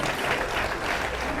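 An audience at a political party press meeting applauds to welcome a speaker, with a dense, steady burst of clapping from a crowd that stays full for the whole short moment.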